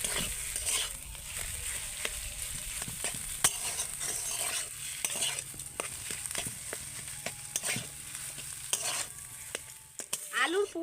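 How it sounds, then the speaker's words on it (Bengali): A spatula scrapes and stirs repeatedly through potato filling in a pan, steady sizzling underneath, close and continuous with irregular clicking strokes. "এবার আমি ভালো করে নেড়ে চেলে আলুর পুরটা রেডি করে নেব"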